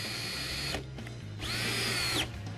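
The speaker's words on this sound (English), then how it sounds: "Just use your screws, electric screwdriver or manual screwdriver if you don't have an electric one." Electric screwdriver driving screws into a silk-screen press station during setup: a close, steady whirring drive that pauses briefly, then runs again with a rising whine before stopping.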